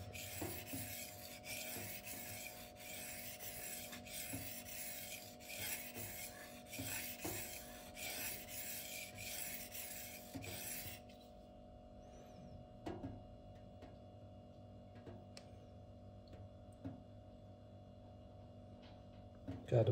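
A Twosun TS264 folding knife with an M390 steel blade is stroked across a sharpening surface to blend the scratch pattern, making repeated close rasping rubs for about eleven seconds before the sound drops to a few faint scrapes.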